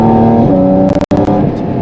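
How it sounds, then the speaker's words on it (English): A Porsche 718 GT4 RS Weissach engine drones through its intake with layered harmonic tones that shift in pitch, broken by a brief cut before the steady note resumes. "You can hear the valves open in the intake."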